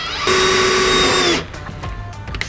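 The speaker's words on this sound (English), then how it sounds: "Go to your mark and drill." A power drill drilling into metal on a Ford F250 whines loudly at a high steady pitch for about a second, then cuts off and spins down, leaving quieter clatter and room noise.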